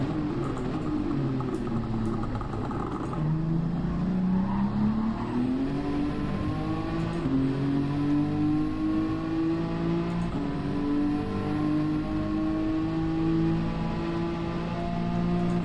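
A race car in Gran Turismo 7 revs hard, its engine note climbing and dropping through downshifts with brief tire squeal, a continuous loud, close engine whine rising steadily across the run.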